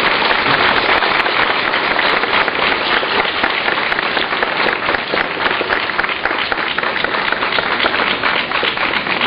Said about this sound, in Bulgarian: Моля за вашите аплодисменти